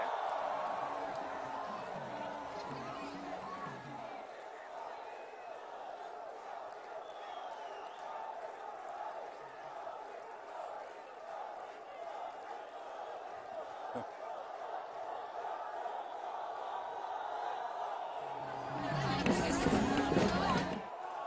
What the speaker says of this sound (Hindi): आज तालियां गूंज रही हैं, जयकारा हो रहा है।